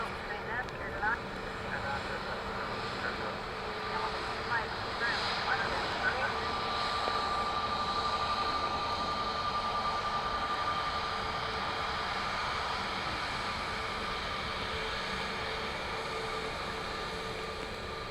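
A Ryanair airliner landing at Dublin Airport produces a steady, fairly loud jet roar lasting the whole stretch, mixed with broadband wind-like rumble and a long sustained whine partway through, while people talk intermittently.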